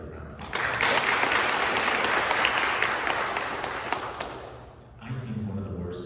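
An audience at a community employee scholarship ceremony gives Dr. Patron a round of applause, a dense burst that holds for a few seconds and fades, after which a voice begins speaking.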